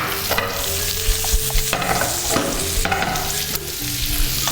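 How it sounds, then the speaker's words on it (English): Pesto and meat sear in a hot pan with a loud, continuous sizzle, broken by repeated stirring scrapes and clinks throughout. "I'm going to take this pesto and I'm going to pop it in my pan. Right, while your meat is sealing off."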